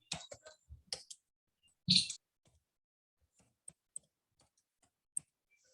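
Computer mouse or keyboard clicks during an online Python lesson, sharp isolated ticks spaced irregularly, a cluster of louder clicks early on and then faint scattered taps in near silence.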